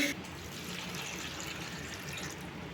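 Water poured into a pot of drumsticks with turmeric and salt while making sambhar, a steady broadband splash and gurgle running the whole time at close range.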